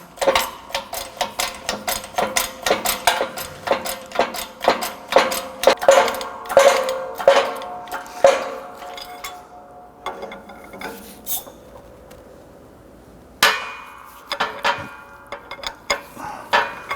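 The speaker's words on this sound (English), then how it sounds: "Go ahead and press our bearing in." A wheel bearing being pressed into the steering knuckle of a 1992-1996 Toyota Camry, a rapid series of sharp metallic clicks and ticks from the press, pausing, then a few louder knocks.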